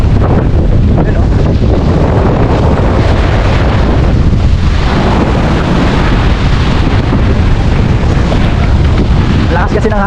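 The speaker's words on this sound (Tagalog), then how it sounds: "Lakas kasi ng hangin mga logs, tapos ulan-ulan pa." Strong wind at Cloud 9 beach on Siargao, with rain, buffeting the microphone in a constant loud, roaring rush that never lets up, with a voice faintly beneath it.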